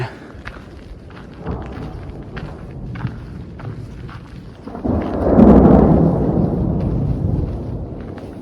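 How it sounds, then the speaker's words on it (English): Thunder from an afternoon mountain storm in Lost Creek Wilderness rolls in as a deep, swelling rumble that peaks midway and fades slowly, over steady rain patter and a few nearby thumps. "Just one of those mountain afternoon thunderstorms."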